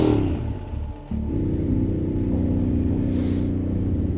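Harley motorcycle engine idling high, a loud steady rumbling drone that dips briefly, then settles into an even, held throttle with a faint hiss near the end.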